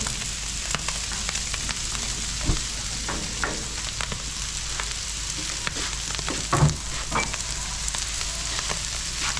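Cut mushrooms tossed into a hot pan with peppers and onions, a constant close sizzle punctuated by occasional scrapes and knocks of a utensil stirring the vegetables, without any talking.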